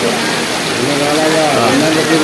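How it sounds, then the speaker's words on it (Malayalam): Steady, dense hiss of heavy rain falling continuously over the Perumpilavu market, loud and close, with no break across the short stretch. "നല്ല മഴ പെയ്തിണ്ട് മഴ"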